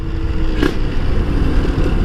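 A two-stroke Kawasaki Ninja motorcycle engine runs loud and close with a rough, crackling low rumble and one brief rev burst while downshifting on an uphill climb.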